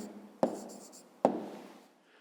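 A pen sets down twice on paper while a math answer is written out by hand, each touch a sharp tap followed by a soft scratching stroke, close and quiet.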